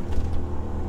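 An Audi A3 3.2 revs hard off the line at a drag strip launch, its engine a steady, loud low roar that fills the second, close and continuous with no talk.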